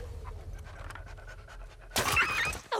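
Steady panting from a dog in The Last of Us Part II, fairly close and continuous, then cut off by a sudden bright crash of breaking glass near the end, followed by another short sharp burst.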